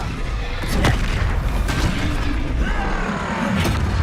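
Spell blasts in Hogwarts Legacy, a few sharp booming bursts over a dense, continuous roar of magical combat effects, loud and close throughout.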